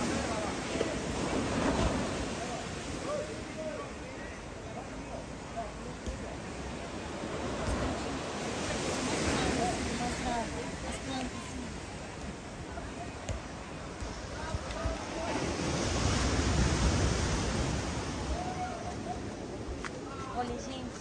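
Sea waves at Praia do Éden beach in Guarujá roll in as a continuous broadband roar, swelling and easing every few seconds with wind buffeting the microphone.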